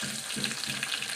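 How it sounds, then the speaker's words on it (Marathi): Cumin and mustard seeds fry in hot oil for the tempering of a traditional Maharashtrian kadhi, a brief, soft, close sizzle with faint crackle and no voices. "त्यामध्ये आपल्याला तेल ओतायचं आहे आणि फोडणीसाठी आपल्याला जिरं, मोहरी टाकायचं आहे"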